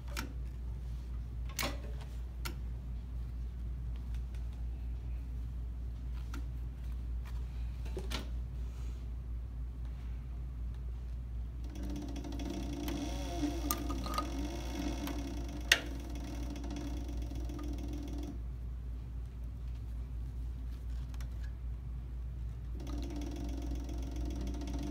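A CB 3200 sewing machine stitches a leather holster, a low steady mechanical hum with a rhythmic ticking of the needle, louder during a long middle stretch and again at the end, with sharp clicks scattered throughout.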